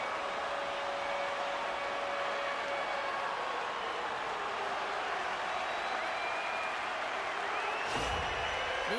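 Arena crowd in the NHL 26 hockey video game cheering after a goal, a steady, loud wash of roaring noise with a brief thump near the end, no talk over it.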